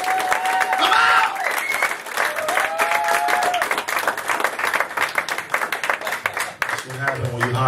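Stand-up comedy club crowd applauding and cheering as a comedian is brought on, dense clapping throughout with shouts and whoops rising over it and voices talking.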